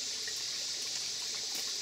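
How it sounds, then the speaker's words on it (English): A small stream water feature trickles and splashes in a park, a soft, continuous bright rush of water with no voices. "This is a little water feature at Cliff Caves"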